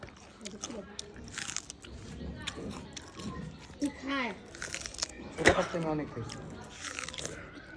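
Someone crunches and chews freshly dug potatoes, with bites and munching sounds close to the mic that come in irregular bursts under steady, casual talk from several people.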